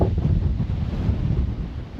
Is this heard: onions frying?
no